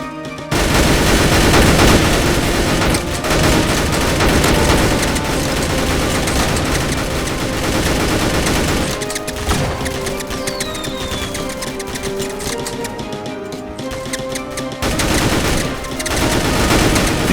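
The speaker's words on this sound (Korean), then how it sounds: "뒤에 쏘고 있다 얘들아 반격해!" Gunfire in the Roblox-style video game Mad City during a police versus gang shootout: dense, continuous rapid shots and bursts, loud and constant almost throughout, with brief gaps near the start and end.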